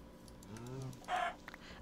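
Chickens in a Minecraft modpack game cluck in short, clipped bursts, fairly faint and close, with a brief sharper squawk partway through.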